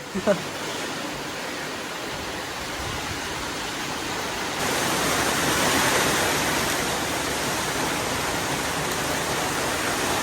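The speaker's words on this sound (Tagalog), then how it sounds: "Lakas ng ulan para pong binububo." Heavy rain roars steadily as a dense, even hiss that grows louder partway through, with a brief knock at the start.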